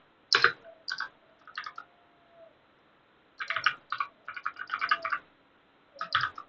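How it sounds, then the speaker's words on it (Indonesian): Keystrokes on a computer keyboard while entering database commands, heard as quiet, close clicks in short irregular bursts separated by brief pauses, with no voice over them. "Nah, kita ketik juga"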